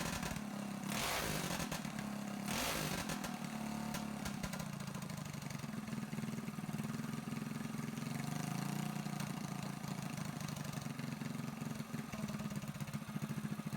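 A Predator 224 mini bike engine fitted with a VM22 Mikuni clone carburetor idles with a steady, running mid-pitched chug. A couple of brief sharper bursts come early on, and no one speaks.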